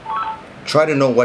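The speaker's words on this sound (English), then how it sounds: "that's my phone" A short electronic notification tone from a mobile phone goes off in a classroom during a maths lesson, sitting just before a voice starts talking over it.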